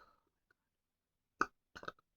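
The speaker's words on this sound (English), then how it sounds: "with all this burping, oh my god, it's annoying" Two short, abrupt burps from a person troubled by heartburn and gas, close and isolated in near silence, with a faint breath or murmur at the start.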